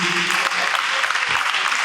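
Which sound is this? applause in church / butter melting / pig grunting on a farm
applause in church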